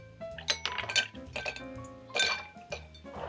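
Ordinary ice cubes clink and knock against each other and the sides of a stirring glass in a quick, uneven cluster of bright taps and clunks, close and fairly quiet.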